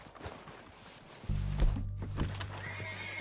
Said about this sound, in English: They're coming down with the horses.